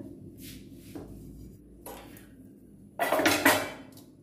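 Dishes and pots being washed in a home kitchen after making rotis: scattered soft clinks early on, then a louder burst of clattering metal and water splashing near the end, close by with no one speaking.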